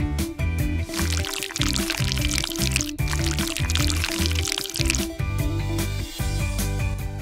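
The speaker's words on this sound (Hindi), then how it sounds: "मैं इसे मोल्ड में डालती हूँ" Thick, sticky gummy bear mixture pouring steadily into a mold, a continuous close squishy, gloopy flow with small wet drips, heard under background music.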